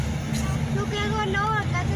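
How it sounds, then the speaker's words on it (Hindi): Road traffic in Lahore gives a steady close rumble of passing vehicles, mostly under a voice talking over it. "और ट्रैफिक देखो लाहौर में कितना ज़्यादा है।"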